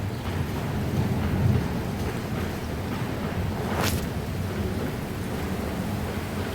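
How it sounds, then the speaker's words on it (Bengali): Heavy rain pours steadily in a dense, close hiss that fills the whole stretch, with one brief sharp crackle partway through. "অনেক বৃষ্টি পড়তেছে।"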